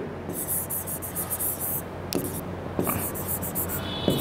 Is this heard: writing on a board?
yes